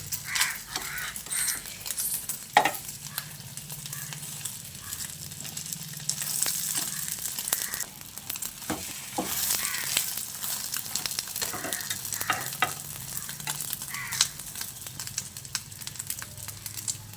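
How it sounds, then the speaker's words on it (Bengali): A two-sided egg omelette fries steadily in a pan, giving a continuous soft sizzle with a few sharper crackles and occasional utensil taps, at moderate level with no voices. "ডিমের অমলেটটা দু পিঠ আমি খুব ভালোভাবে ভেজে নিয়েছি"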